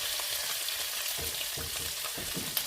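Pork Boston butt sears in a hot skillet with a steady, close crackling sizzle, bursts of spattering fat popping through the hiss, no voices.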